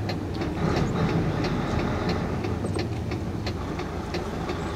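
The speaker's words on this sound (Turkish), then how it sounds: "Evet, alın size motor sesi." A Mercedes-Benz Actros 1844 V6 truck engine rumbles steadily at close range, a deep continuous drone with faint rhythmic clatter on top.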